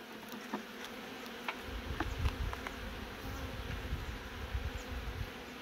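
Honey bees buzz steadily inside an opened beehive during a queen-acceptance check, a dense continuous drone close by with no talking.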